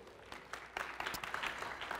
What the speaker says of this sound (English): Give her a round of applause, everybody.